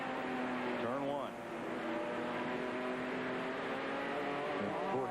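Onboard roar of Brett Bodine's race car engine at Watkins Glen in 1993, a loud steady drone with brief upshifts and revs as the car works through the corners, under a commentator's voice.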